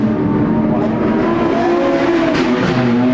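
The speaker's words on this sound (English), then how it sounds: "you can hear McSweeney's car labouring here in the front straight" The engine of a production sedan race car labours down the front straight with a continuous strained drone and a slowly shifting pitch, loud and close throughout.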